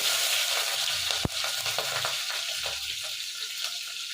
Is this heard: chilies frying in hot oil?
yes